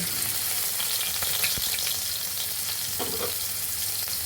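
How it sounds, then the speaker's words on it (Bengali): Crushed ginger and cumin frying in hot oil, a steady, fairly loud sizzle with a few light stirring scrapes, no voices. "আদাগুলো ব্রাউন কালার করে ভেজে নিতে হবে আমাদের জিরা এবং আদা ভাজা হয়ে গিয়েছে"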